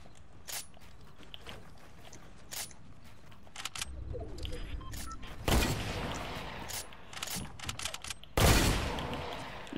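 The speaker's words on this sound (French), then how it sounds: "Il m'a mis une balle." Gunfire in the Fortnite video game, a sniper match: scattered clicks and light footsteps, then two loud, sharp shot bursts that ring out a few seconds apart, up close with no one talking.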